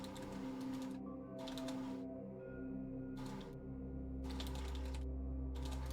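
Bursts of fast clicking keystrokes on a computer keyboard separated by brief pauses, over a steady low hum, with no talking.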